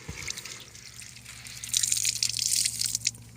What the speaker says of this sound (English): does anybody tell me why there's water leaking inside?